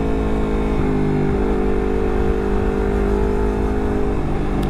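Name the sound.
Honda CBR250RR revving with WRX GP3 K2 exhaust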